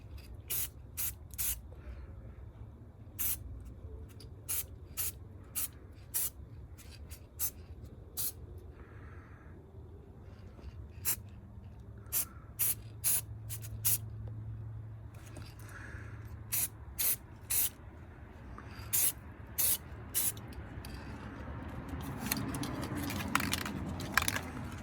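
Spray paint sprayed onto the front driver's-side brake caliper of a BMW E46 in short, sharp hissing bursts, over twenty of them at uneven intervals, close and clear over a low background hum, with no talk.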